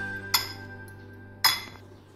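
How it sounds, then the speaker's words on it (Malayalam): A spoon mixes pepper powder and lemon juice in a bowl, giving two sharp, separate clinks against the bowl with quiet pauses between. "ഇനി ഇത് നമുക്ക് നന്നായിട്ടൊന്ന് മിക്സ് ചെയ്യാം."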